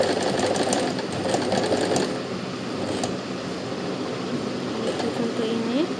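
A Singer SM024 sewing machine stitching a button, running in a steady close mechanical whir with a rapid needle rhythm, easing slightly midway and continuing throughout.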